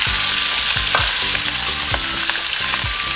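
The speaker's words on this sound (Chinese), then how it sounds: "这里不辣的辣椒，就炸点香味。下火腿" Dried chili and ham fry in a hot wok, a steady loud sizzle with the rhythmic scrape and clatter of a spatula stirring, no voices.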